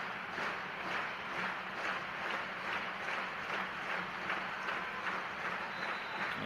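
A women's volleyball crowd at Wichita State, with Cincinnati visiting, cheers at set point in a steady, full-arena roar that holds without a break from start to finish.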